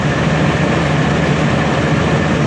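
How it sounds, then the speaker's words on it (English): A 2002 Ford Excursion's V10 engine idles on a freezing 25-degree morning, giving a loud, steady, close rumble with an even broadband roar and no voices. "It's V10, smooth running."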